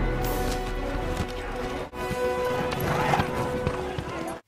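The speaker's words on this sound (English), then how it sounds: "taking the horses with them." Horses gallop in a battle-era scene from the film War Horse, with quick rhythmic hoofbeats, a whinny, and a brief drop to near silence partway through, all loud and close.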